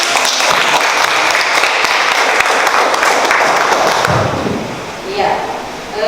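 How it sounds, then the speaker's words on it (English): Classroom applause from students, a dense, steady wash of clapping that fades after several seconds into a few voices. "Give applause."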